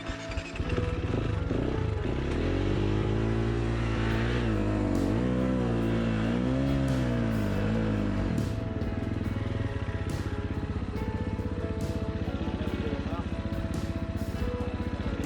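A motorcycle engine runs loudly close by, its pitch rising and falling as the throttle is worked during a struggle to get the bike going, then settling into a steady roar.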